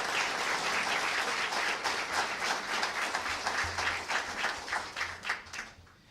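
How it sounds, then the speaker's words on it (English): Audience applause at a civic gathering on community violence intervention, steady dense clapping from a crowd that holds strong for several seconds, then thins into scattered claps and fades. "I'd like to give each of them a round of applause"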